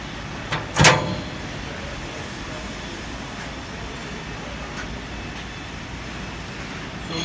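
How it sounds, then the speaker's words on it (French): The door of a sawing machine shuts with one sharp, loud clack near the start, then a quiet steady hum of the room follows. "Ensuite, je ferme la porte."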